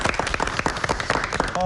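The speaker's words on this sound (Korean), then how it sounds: "오늘 멋진 명강의 다시 한번 박수 한번 보내드리도록 하겠습니다" Audience applause at a Korean lecture on insurance, dense and close, rising steadily in a continuous patter of claps with a voice briefly audible near the end.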